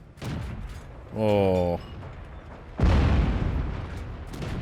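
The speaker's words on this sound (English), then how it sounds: "there's the artillery" Artillery fire in the World of Tanks video game: a booming in-game blast lands after a short buzzing tone, with a voice reacting over the game audio.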